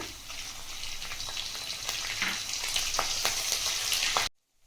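Green chilies and curry leaves crackle in hot oil in a pan, a loud dense sizzle with sharp popping bursts that holds steady and then cuts off abruptly near the end.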